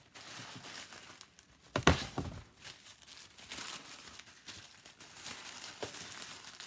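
Kate Spade package wrapping being unwrapped, a steady soft crinkling and rustling of paper up close with one louder tearing crumple partway through, no talking.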